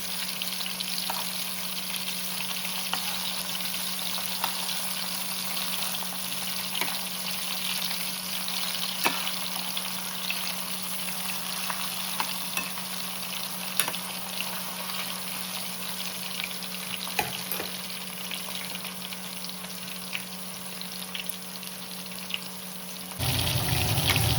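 Fish fries in a pan on a medium flame, giving a steady, dense sizzle that holds evenly throughout, with a few faint ticks and clicks and no talking.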